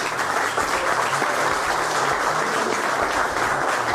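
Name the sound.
audience applause for Joe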